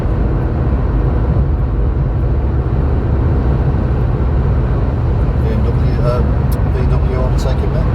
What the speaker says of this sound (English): VW overtaking me